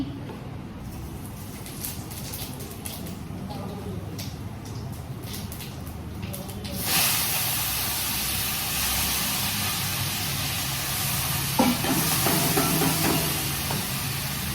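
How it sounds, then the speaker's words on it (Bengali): Bottle gourd sizzling as it is set into a hot pan for a vegetarian home-cooked dish; a steady broadband hiss of frying starts about halfway through and continues evenly, close and moderately loud, with quiet kitchen sounds before it. "লাউটা বসিয়ে দিলাম।"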